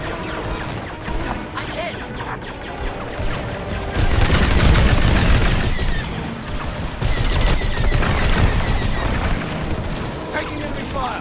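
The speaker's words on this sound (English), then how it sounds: "Taking enemy fire." Enemy fire and explosions rumble through a Star Wars Squadrons space battle, a dense, continuous barrage of booms and crashes that swells louder midway, with radio voices talking over it.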